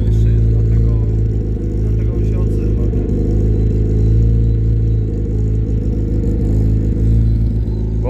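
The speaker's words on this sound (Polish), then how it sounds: "Wydech gra głośniej niż w zeszłym roku, pamiętam." Fiat 128 Sport engine idling with a loud, deep, steady exhaust burble, close and continuous throughout, while people chat over it at a car meet.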